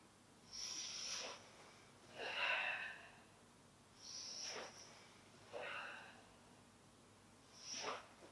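A person doing a Pilates exercise breathes in and out in slow, regular cycles, with airy breaths about every one and a half seconds, close to the mic and otherwise quiet.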